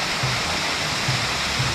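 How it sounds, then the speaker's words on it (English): Rushing water at Terapai waterfall in Chini, Pahang, a steady broadband roar that stays even and close throughout, with faint low rumbles under it. "Waterfall."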